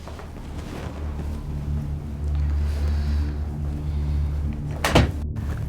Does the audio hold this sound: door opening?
yes